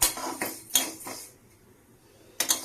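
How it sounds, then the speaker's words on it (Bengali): Moong dal dry-roasting in a preheated kadai, with a spatula clattering against the pan in a few close, sharp bursts, then a quiet stretch before two more clinks near the end. "এবার মুগ ডালটাকে আমি ভালো করে ড্রাই রোস্ট করে নেব"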